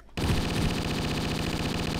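Rapid automatic gunfire in the VR gladiator game GORN, a sustained stream of shots that starts abruptly after a brief quiet moment and continues loud and unbroken to the end.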